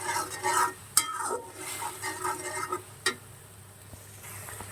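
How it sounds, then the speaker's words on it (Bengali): A spoon stirs onion, tomato, garlic and ginger pastes with coriander powder in a pan for a paneer vegetable curry, giving scraping swishes and a few sharp metallic clinks against a faint sizzle, with no talking. "এখন আমি এটাকে ভালো করে মিক্স করে নেব"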